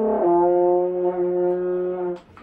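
A brass instrument sounds a single sustained open C, one steady note held for about two seconds from a clean attack before it cuts off, close and fairly loud with no talking.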